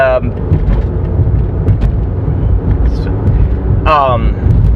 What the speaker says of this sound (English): sorry, I'm paying attention to traffic here